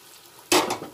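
Phoron sizzles in a wok (kadai) for a winter-vegetable khichuri: quiet frying, then a sudden loud burst of sizzling and scraping as the spices are pushed and stirred.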